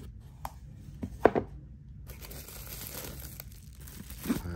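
Plastic wrapping crinkles in a few short, close bursts while a Casio G-Shock GWN-Q1000K GulfMaster watch is unboxed, with quiet handling rustle between them.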